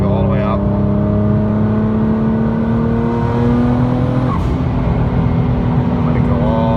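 A Nissan GTR with a built engine revs steadily during break-in driving, a loud, continuous drone that holds its pitch and then briefly dips and recovers, heard from close by inside the car.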